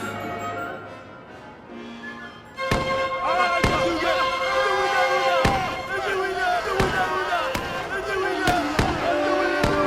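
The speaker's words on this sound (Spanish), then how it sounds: "Los derribaron a balazos." Sharp gunshots crack out one after another in a Robinson Crusoe radio drama, several loud bangs spread over the scene with dramatic music and voices underneath.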